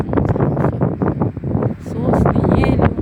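Strong, warm wind buffets the microphone outdoors among pines and firs, a continuous low roaring rumble with gusty swells, while a person talks throughout.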